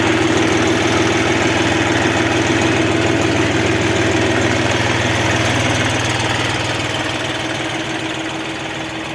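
A Bulat 244 mini tractor's KM-385 diesel engine idles loudly and steadily nearby, a rough chugging rumble that fades slightly toward the end.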